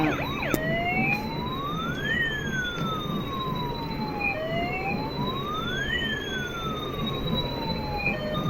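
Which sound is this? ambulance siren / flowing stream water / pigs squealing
ambulance siren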